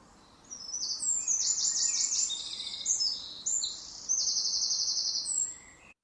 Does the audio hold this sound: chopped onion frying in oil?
no